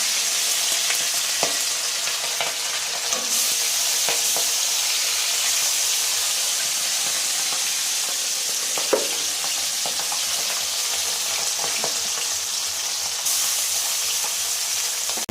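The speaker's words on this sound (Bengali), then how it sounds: "মাছ দিচ্ছি, কড়াইতে তেল গরম হয়ে গেছে।" Steady, loud sizzling of small rohu fish frying in hot oil in a kadai, a dense crackling hiss throughout with occasional sharper pops, no voices.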